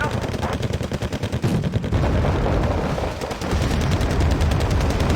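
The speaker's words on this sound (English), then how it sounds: "Tanks are actually firing." Tanks fire in the Wargame: Red Dragon strategy game, a dense stretch of rapid overlapping gunfire and heavy shots under a constant battle rumble, loud and continuous with no pause.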